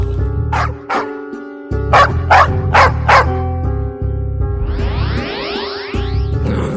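A dog barks in a quick burst of several sharp, loud barks close by, followed by whimpering whines over a steady background hum, with no talking.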